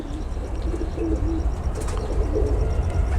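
Pigeons coo in a low, soft, murmuring run against steady background noise, with a few faint chirps, heard at close range with no talk.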